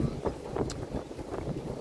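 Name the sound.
wind blowing on the microphone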